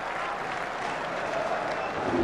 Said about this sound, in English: This crowd have gone absolutely wild.